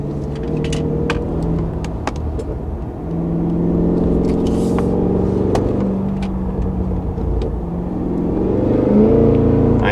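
A 2023 Cadillac Escalade-V in V mode accelerating on a cliffside road, its engine rumble rising and falling through several pulls, heard from inside the cabin with steady road noise and no talk.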